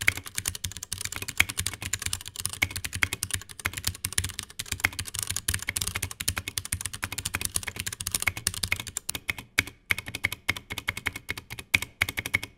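Rapid clattering keystrokes on a Razer mechanical keyboard fitted with new keycaps, continuous dense typing close up that turns into sparser, separate clacks near the end, with no voices.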